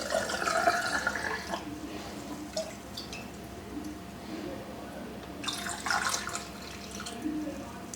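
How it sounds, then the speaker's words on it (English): Chicken stock poured from a ladle or pot into glass canning jars: soft liquid trickles and drips in two clearer bursts near the start and again later, with faint splashes between, close and gentle. "I'm just going to fill up these jars as I go along"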